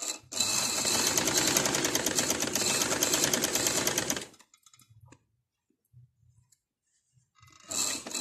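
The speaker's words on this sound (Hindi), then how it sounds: "ये देखें हम एक सिलाई में पाइपिंग लगा रहे हैं" A sewing machine stitches piping onto a kurti collar band in a fast, steady run of about four seconds. It then stops, leaving faint clicks, and starts up again briefly.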